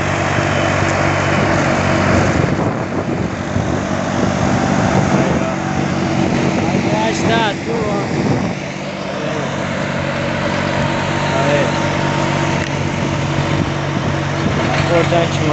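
A Valtra A950R tractor from 2021 pulls a disc harrow through soft soil, its engine droning loudly and steadily throughout, with someone talking over it.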